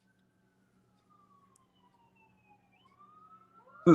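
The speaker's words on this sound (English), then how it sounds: "I got fire engines, ambulances, and cop cars going by my house." Sirens of passing fire engines, ambulances and police cars wail faintly in the distance, the tone sliding slowly up and down over a low hum, then a sharp loud knock at the end.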